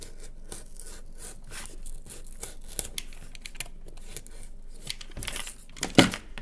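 Scissors snip through paper while a cardboard-box piggy bank craft is being made, producing a series of crisp, close cuts and papery rustles with a sharper crunch near the end.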